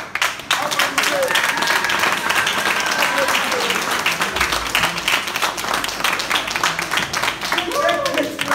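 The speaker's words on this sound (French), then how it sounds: "Allez, allez, applaudissez. Applaudissez." Audience applause, loud and continuous clapping from a crowd that carries on steadily, with a voice speaking over it near the end.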